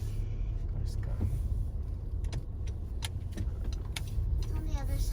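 Cars passing on a road near a park in autumn, a low engine and tire rumble rising and falling as vehicles go by, with a few light clinks on top.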